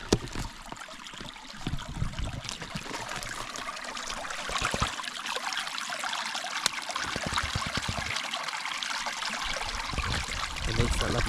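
A water bottle is filled from a stream during a Scottish wild-camping hike in the Ochil Hills, giving steady close gurgling and trickling with irregular bloops over flowing water, with no talk.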